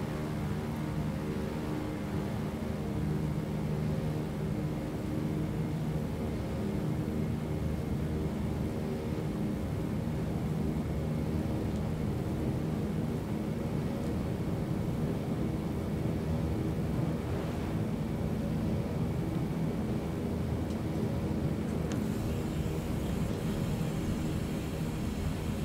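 Float plane in MSFS taking off at full power, a dense steady engine roar and propeller drone filling the whole stretch without letup, loud and close, no talk.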